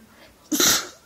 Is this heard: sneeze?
yes